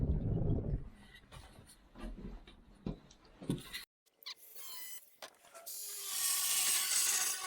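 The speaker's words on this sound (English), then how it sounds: "So what I'm doing now, I'm cutting plywood so to go behind the toilet." A saw cuts a piece of plywood during plumbing work behind a toilet. Scattered knocks and rasping strokes give way to a brief pause, then a louder, sustained, harsh cutting rasp.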